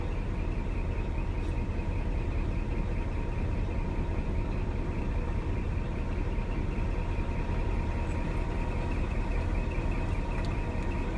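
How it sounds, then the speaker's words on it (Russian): A Scania G420 tractor unit's engine, about 504,000 km on the clock, idles with a steady, low rumble and no change in pace, a constant mechanical drone throughout. "Мотор работает ровно."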